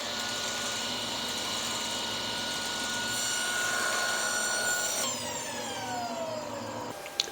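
Table saw with a zero clearance insert cutting a kerf through timber, a loud, steady whining drone close by that shifts pitch near the end as the blade spins down, with no talking.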